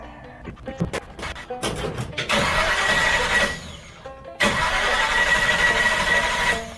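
Car engine after an intake manifold gasket repair, cranking with a few stuttering starter bursts before catching and running with a steady mid-pitched idle, close and moderately loud.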